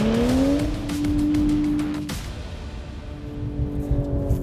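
BMW M240i launching hard with launch control on winter tyres, a loud engine howl climbing quickly through the revs, cutting at an upshift and then rising again as the car pulls away, heard from inside.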